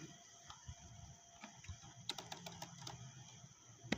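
Someone types a networking command on a computer keyboard. A quick burst of crisp key clicks, close and fairly quiet, is followed by a final louder keystroke, with no speech.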